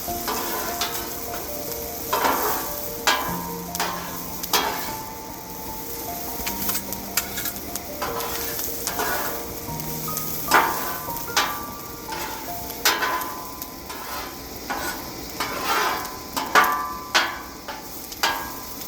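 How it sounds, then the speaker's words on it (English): Onions sizzle on a Blackstone griddle as a metal spatula repeatedly scrapes, taps and clinks against the flat top in an uneven rhythm over a constant close frying hiss, with no talking. "Now with these onions, it's very simple. Just keep them moving."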